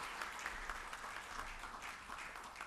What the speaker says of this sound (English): give him a round of applause and show appreciation.